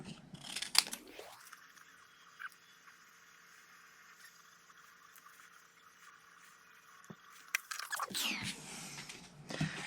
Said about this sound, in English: now I just want to quickly fussy cut the flower